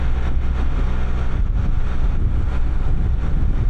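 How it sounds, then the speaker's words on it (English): Steady wind buffets the microphone during a ride on a Can-Am Spyder three-wheeled motorcycle near a small old-west-style town, a constant loud low rumble with no pauses and no talking. "Kind of windy out again."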